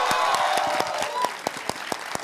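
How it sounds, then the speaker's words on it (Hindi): A studio audience at a Hindi TV debate show applauds, then a boy's hard, sharp claps keep going in a steady rhythm as the crowd fades. "ये लड़का तो मुझे लग रहा है जिम का वर्कआउट कर रहा है, ऐसे ताली बजा रहा है और पूरी ताकत के साथ ताली बजा रहा है"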